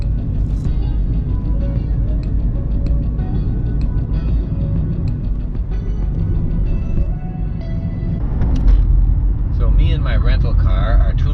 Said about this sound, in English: My rental car are tootling around the north shore of Amami